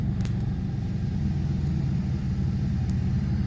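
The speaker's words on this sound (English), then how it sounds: "Starts right up." A 1992 Oldsmobile Ninety Eight Regency with 116,883 miles runs steadily after starting, giving a low, even engine rumble that stays close and constant throughout with no talking.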